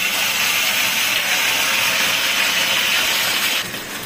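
Gathi kochu (taro) pieces frying in hot oil in a vegetarian dish, giving a steady, loud, close sizzling hiss that holds evenly and eases slightly near the end.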